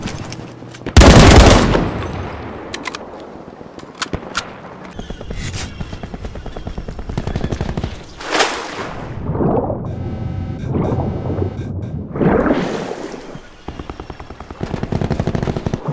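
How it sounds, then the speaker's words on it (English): Cluster grenade explosions go off in Call of Duty Black Ops 4 gameplay: a loud initial blast, then a string of booming, rumbling detonations spread over several seconds amid continuous battle noise. "Cluster grenade."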